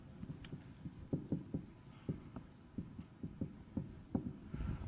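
Chalk or marker writing on a board in a maths lecture: quiet, close series of short taps and strokes in an irregular rhythm, with no talking over it.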